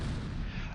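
Mortar fire in the World War II strategy game Close Combat V, a dense, low booming blast of artillery that fills the whole brief moment, loud and continuous with no speech.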